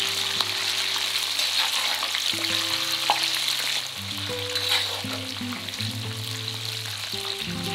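Chopped onion fries in a hot pan with a constant dense sizzle and soft crackle, close and continuous, with a faint low hum beneath and no talking.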